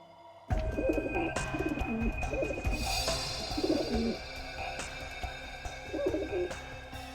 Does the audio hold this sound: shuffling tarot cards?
no